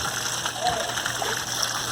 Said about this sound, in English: It just washes out the hose